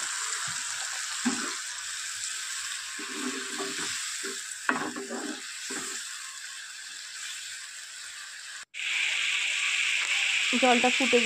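Water goes into a Bengali lota fish curry with eggplant, simmering in oil: a continuous sizzle with a speaking voice over it, a brief break, then a louder, fuller hiss and bubbling.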